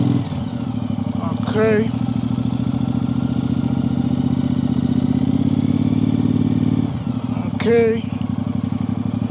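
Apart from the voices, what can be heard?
Triumph Speedmaster motorcycle practicing U-turns with clutch and throttle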